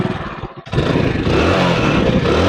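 A 2015 Hero Splendor+ motorcycle engine idles with a steady clattering thrum, briefly dips, then revs up and holds a loud, sustained drone close by.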